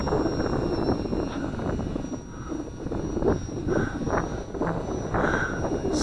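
Small XK DHC-2 Beaver A600 remote-control airplane flying on a windy day, a thin steady electric motor whine heard at a distance over rough wind buffeting.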